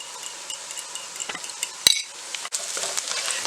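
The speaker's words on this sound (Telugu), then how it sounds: "4 ఎగ్స్ తీసుకొని బాగా బీట్ చేసుకోవాలి" Four eggs are beaten in a bowl while preparing egg Maggi noodles with fried carrots and onions, giving a steady scraping, clinking whisk rhythm with a sharp knock partway through, close and moderately loud.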